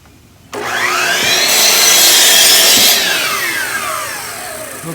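A board for a custom door is ripped lengthwise on a power saw: a sharp motor whine starts suddenly, then a loud steady cutting roar that peaks midway and eases slightly toward the end, with no talking.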